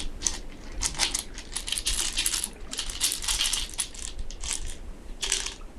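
Metal dice are dropped and roll, giving bright, close clattering bursts and jingling ticks in repeated clusters, loud against a quiet room.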